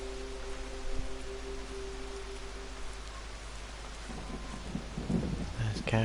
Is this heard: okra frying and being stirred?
no